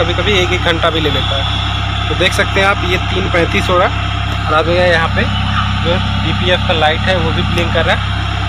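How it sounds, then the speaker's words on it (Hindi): A Tata Ace Gold BS6 engine runs during DPF regeneration, holding a low, steady idle hum beneath someone speaking throughout. "आप इंजन का आवाज़ भी सुन सकते हैं।"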